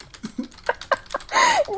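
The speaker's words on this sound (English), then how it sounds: "And you are typing away." Computer keyboard typing in irregular bursts of clicks and taps, close by, ending in a louder clatter.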